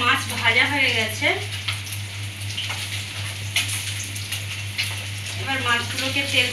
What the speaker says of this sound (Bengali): এবার মাছ ভাজা হয়ে গেছে,